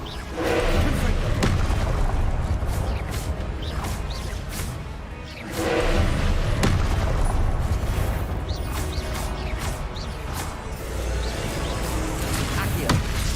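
Repeated Confringo blasting-spell explosions in Hogwarts Legacy combat, with thumping booms, crashes and whooshes piling up over a loud, continuous battle roar.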